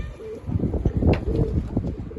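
A young pigeon coos softly nearby, low throaty calls over some rustling and wind.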